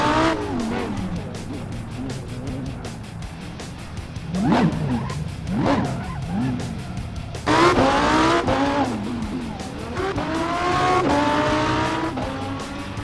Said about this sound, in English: The La Voiture Noire is powered by a quad-turbocharged W16 engine